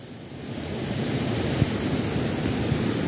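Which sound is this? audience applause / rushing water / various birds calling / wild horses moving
rushing water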